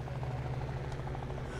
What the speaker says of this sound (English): Military choppers!